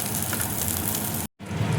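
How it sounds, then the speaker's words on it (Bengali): Pieces of rui fish fry in hot oil with a steady, close sizzle and crackle. The sound drops out briefly for a moment, then the sizzling resumes. "মাছটা দেখো ভাজা হয়ে গেছে, এবার আমি তুলে নিচ্ছি"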